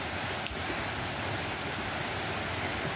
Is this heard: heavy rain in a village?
yes